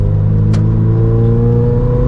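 A Toyota GR86 four-cylinder engine with an aftermarket exhaust revs loudly and close up, a deep, throaty exhaust tone holding steady with one sharp pop near the start.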